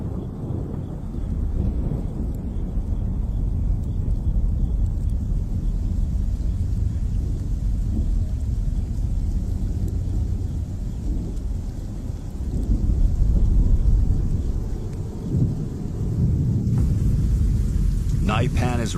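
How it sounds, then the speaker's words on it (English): A desert thunderstorm with rain gives a steady, dense rain hiss and low rolling thunder rumble throughout, with a louder swell of rumbling midway, under a narrator's voice. "Storm clouds gather once again."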